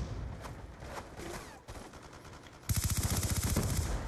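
In a Black Ops 2 gun game match, scattered single gunshots crack out, then a fast automatic burst of evenly spaced shots fires loud and close for the last second and a half.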